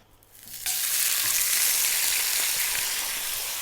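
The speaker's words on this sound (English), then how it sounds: "We want to hear a little bit of a sizzle because we're frying." After a quiet moment, a loud, sudden sizzle erupts and holds steady, the crackling hiss of skin-on Dover sole frying in a non-stick pan close by.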